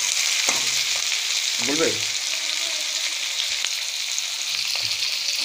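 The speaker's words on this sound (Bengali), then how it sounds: "হালকা করে ভেজে নেব।" Pan contents for chili chicken frying lightly, a steady close sizzle with a few spoon scrapes and clinks, while a voice speaks briefly and faintly.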